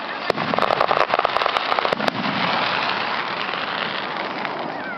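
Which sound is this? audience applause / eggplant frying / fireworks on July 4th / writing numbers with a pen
fireworks on July 4th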